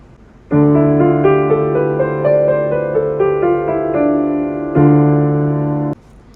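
A sustained keyboard-like tone steps through a musical scale starting on D, chords ringing smoothly and loudly, with one brief break near the end.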